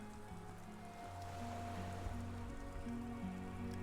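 Ocean waves in Disco Elysium, a soft continuous wash of surf under low sustained musical tones, faint and steady throughout.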